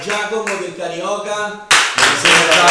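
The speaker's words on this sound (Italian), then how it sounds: "Un applauso." Voices and harmonic tones give way to a loud burst of clapping from a crowd, continuing to the end.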